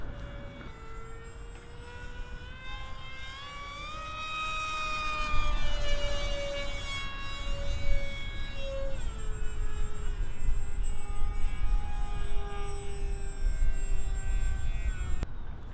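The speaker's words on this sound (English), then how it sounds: "AeroScout goes upside down." An AeroScout S2 RC airplane flying inverted, its electric motor a steady high whine that rises and falls in pitch as it passes, fairly loud against continuous wind noise.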